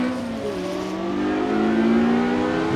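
A Ford GT40 Mach 1 race car engine in a 1960s racing game at Riverside, revving steadily and rising in pitch as it accelerates, loud and continuous with no talk over it.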